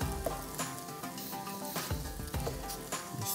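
Diced bacon frying in a pan for a bean stew, a close, dense crackling sizzle with sharp pops and stirring scrapes throughout.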